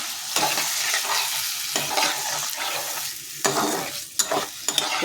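Fish frying in a pan with turmeric and ground spice paste, a continuous close sizzle broken by repeated stirring and scraping sounds, with no talk.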